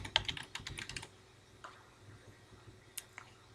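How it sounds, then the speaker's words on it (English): Someone types a file name on a computer keyboard, with a quick run of close, light key clicks in the first second, followed by a few sparse taps and a pause. "So I'll type in a new name, and I'm just going to abbreviate household income"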